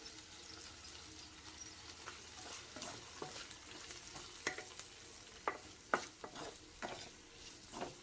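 Capsicum frying in a pan with salt and garlic chili, a quiet sizzle broken by repeated sharp scrapes and taps of a spoon stirring, near and intermittent, without talk.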